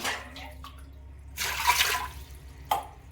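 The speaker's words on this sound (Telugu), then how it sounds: "కుక్కర్లో 2 గ్లాసులు నీళ్ళు పోయాలండి" Two glasses of water poured into a pressure cooker, a rushing splash near the middle and a brief splash at the end, close by.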